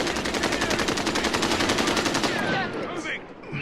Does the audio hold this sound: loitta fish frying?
no